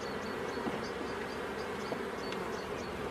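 A steady, close insect hum of young nurse honey bees clustered on a brood frame during a spring hive inspection, continuous and even throughout with faint wingbeat flickers and no voices.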